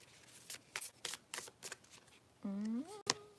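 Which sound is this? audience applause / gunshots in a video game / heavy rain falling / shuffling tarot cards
shuffling tarot cards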